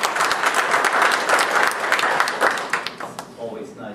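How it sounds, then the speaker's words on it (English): An audience claps loudly and steadily after a speaker's introduction at a lecture, the applause dense for about three seconds before thinning out and fading, with a voice briefly heard. "Always nice to get the applause up front"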